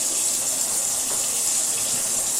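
Tap water running steadily into a sink, a continuous bright rushing gush heard close and alone, with no voices over it.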